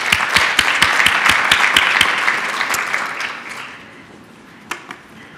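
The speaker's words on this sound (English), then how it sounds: "Another round of applause, please." Conference attendees at a government panel session give a round of applause. Crisp, sharp claps sound close at first, then thin out and fade to scattered last claps near the end.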